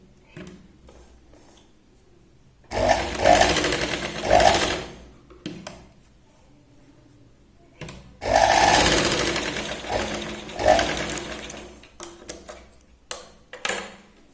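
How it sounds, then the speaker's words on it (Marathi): A sewing machine stitches a katori blouse in two long loud bursts of rapid mechanical whirring, with quieter pauses and brief short runs between them. "जिथे आपण ड्रॉ केले त्याच पॉइंटला आपल्याला शिलाई लावायची"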